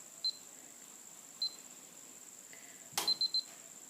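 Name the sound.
YI action camera stopping recording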